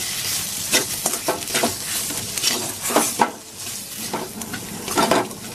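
Spiced egg chop filling stirred continuously in a pan with amchur powder, irregular scraping and tapping strokes over a soft sizzle, close and without talk.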